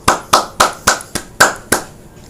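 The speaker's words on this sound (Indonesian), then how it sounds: "tepuk tangan" Seven sharp, separate hand claps in a slightly uneven rhythm, close and loud, each with a short room decay and nothing else between them.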